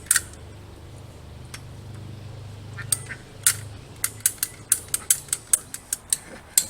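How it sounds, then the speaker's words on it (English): A ratcheting pipe cutter works through PVC pipe, with a sequence of sharp, rhythmic clicks that grow louder and quicken toward the end over a soft low rumble, close up and without speech. "But I figure using a little tool like this pipe cutter"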